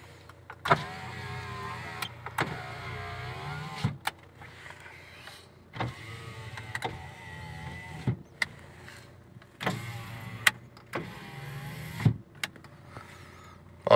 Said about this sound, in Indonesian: ini untuk power windows kita coba satu-satu ya